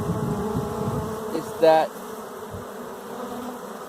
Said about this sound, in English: it looks like the bees are going back